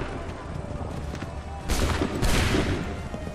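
A musket volley from a line of soldiers in Assassin's Creed III cracks out in overlapping shots over a steady battlefield din, with a second ragged volley following a moment later, and distant shouting underneath.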